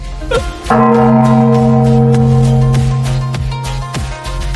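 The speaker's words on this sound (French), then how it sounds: "C'est la cloche d'alarme de la secte de l'épée Kangyun, elle ne sonne que très rarement." A large temple alarm bell of the Kangyun sword sect rings out in a single loud strike, its deep, sustained tone slowly decaying over several seconds, with faint quieter sounds beneath.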